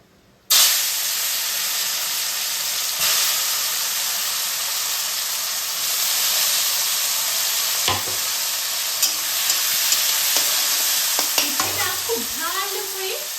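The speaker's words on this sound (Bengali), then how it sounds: "আমি প্রথমে উচ্ছেটা আমি কড়াইয়ে দিয়ে দেবো।" Bitter gourd dropped into smoking hot oil in a wok, bursting into a loud steady sizzle that continues throughout, with occasional stirring clatter and scraping near the end.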